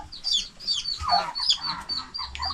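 A chicken on a small farm with cattle and goats gives several short clucks in quick, uneven bursts, fairly close and clear, with faint background noise between calls.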